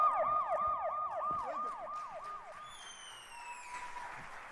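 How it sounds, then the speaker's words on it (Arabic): In a stage comedy, a sound effect presented as a gas truck plays a wailing, up-and-down siren, then a few rising electronic tones; it is fairly faint and has no talk over it. "يا عم ده مش بوليس، ده بتاع الغاز."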